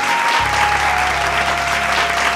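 A stage audience at a Bhojpuri singing competition show claps loudly to welcome a guest, dense sustained applause over a low musical drone.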